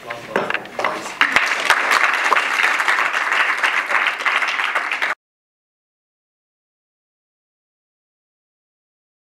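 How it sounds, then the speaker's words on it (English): An audience at a student union meeting applauds after a question-and-answer session, a dense burst of clapping with some crowd noise that lasts about five seconds, then cuts to silence. "A round of applause for the"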